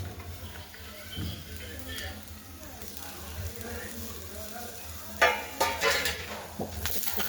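Onion frying in a little oil in a pan on a gas stove, a soft steady sizzle with a few sharp metallic scrapes of stirring near the end, while someone talks.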